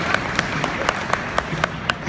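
An audience at a Walker Stalker Chicago 2017 convention panel claps, with sharp, evenly spaced hand claps standing out above a softer, continuous applause in the hall.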